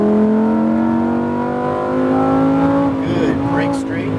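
Lamborghini Huracan accelerating on a racetrack, a loud close engine note rising steadily in pitch before easing off near the end, with a voice speaking over it.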